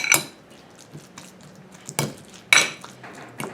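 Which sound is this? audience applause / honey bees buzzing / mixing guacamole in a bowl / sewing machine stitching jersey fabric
mixing guacamole in a bowl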